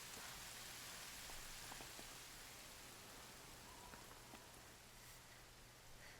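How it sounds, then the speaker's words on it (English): Steady rain in the Horizon Zero Dawn game world, a continuous even hiss of falling drops with faint scattered patters, fairly quiet and without voices. "there's some rain"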